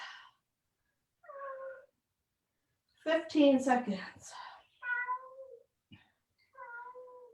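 A cat meows several times nearby, a string of short, clear cries with quiet gaps, while a person speaks briefly partway through.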